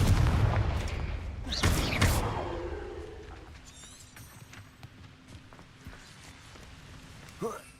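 In the video game Hogwarts Legacy, the Confringo spell sets off a short burst of explosive booms, followed by quieter rumbling and scattered game effects while a voice speaks faintly at the start.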